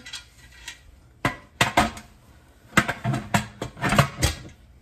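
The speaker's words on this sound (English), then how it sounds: "I'm gonna get my lid on here" Metal lid set onto a canning pot for refried beans, a few sharp clanks and rattles in separate bursts with quiet gaps between, close by.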